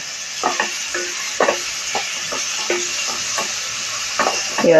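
Chopped onion frying in a pan with a pinch of salt while cooking jowar upma: a steady hiss runs throughout, broken by repeated scraping and clinking stirs of the spatula, with no talking.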